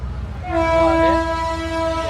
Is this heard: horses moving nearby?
no